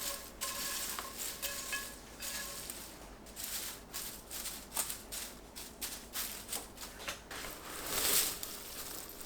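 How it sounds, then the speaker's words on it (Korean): Seaweed stir-frying in perilla oil over low heat, with a soft steady sizzle and clustered scraping, stirring taps from a nearby pan, heard alone without any talk. "약불로 1분 30초 볶습니다."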